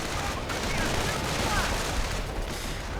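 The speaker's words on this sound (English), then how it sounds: "rather short range artillery fire attempt to block this off" Short-range artillery fire rumbles through a World War II strategy game battle, a dense, continuous barrage of booms and gunfire that stays loud and steady throughout.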